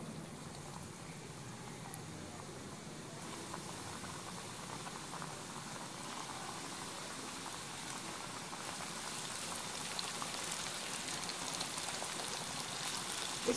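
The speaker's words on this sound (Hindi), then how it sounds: "चिकन को फ्राई करना स्टार्ट करते हैं।" Coated chicken deep frying in hot oil makes a steady, dense hiss and sizzle. It stays fairly faint and even, growing slightly stronger toward the end, with no talking.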